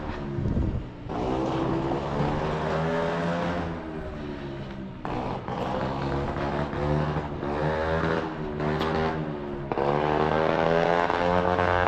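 A loud unmuffled vehicle engine rumbles and revs nearby on an evening street walk, a harsh droning roar with rising and falling pitch that fills the scene, with wind buffeting the microphone.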